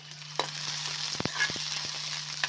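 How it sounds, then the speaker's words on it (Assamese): Onions fry in hot oil in a kadai, a steady close sizzle broken by a few sharp scraping stirs of the spatula. "পিঁয়াজখিনি গোল্ডেন কালাৰ হোৱালৈ এইখিনি ধুনীয়াকৈ ভাজি ল'ম"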